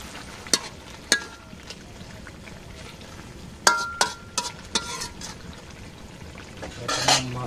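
Garlic paste going into a pan for a fish curry, with sharp utensil clinks and scraping against the pan over a faint, low sizzle; close by, with a few isolated knocks and stirring sounds.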